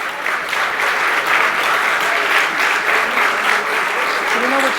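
Applause for the winning teams at an annual history quiz bowl, a full room clapping steadily and loudly throughout, with a brief voice near the end.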